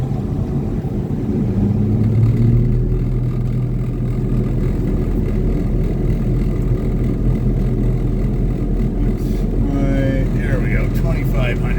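A John Deere tractor engine running a blower at an airfield revs up to about 2,500 RPM, a steady loud mid-low drone with a rising whine near the end, under intermittent talk.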